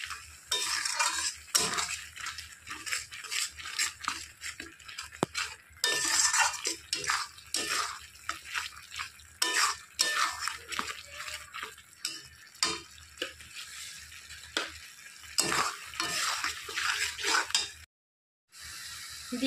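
A spoon stirring and scraping jackfruit and shrimp with spices in a frying pan, steady close clinking and scraping over a soft sizzle, continuous with a brief pause near the end.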